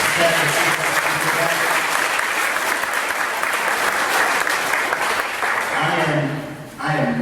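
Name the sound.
applause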